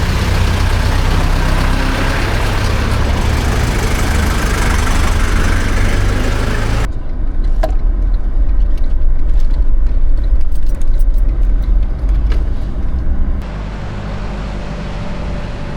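Old Toyota Land Cruiser FJ40 engines idle with a steady low rumble, loud and close at first, then dropping to a quieter, more distant drone with faint clicks and knocks over it.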